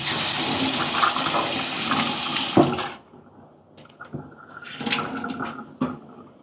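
A tap runs hard and steadily as a cleaning cloth is dampened, then shuts off, leaving softer splashes, drips and wet handling sounds of the cloth at close range.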